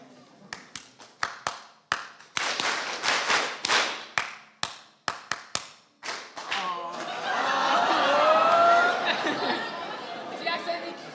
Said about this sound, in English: If you accidentally clapped the rhythm,